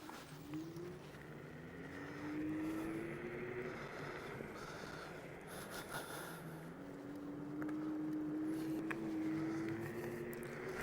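A KuKirin G2 Max electric scooter pulling away in its second power mode, a faint rising motor whine that climbs in pitch twice as it accelerates, set against wind rush and outdoor background noise.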